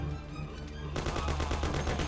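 Rapid bursts of gunfire from a gun in the Mafia video game, a loud steady rattle of repeated shots over game background hum, starting partway through and continuing to the end.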